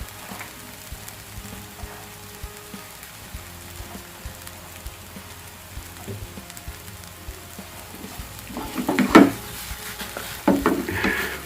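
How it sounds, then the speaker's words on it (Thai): Shallots stir-fried in a pan, a low continuous sizzle with light scraping and stirring that grows busier and louder toward the end, no voices. "หอมแล้ว หอม เนี่ยก็จะผัด จนกว่าหอมมันจะสุก"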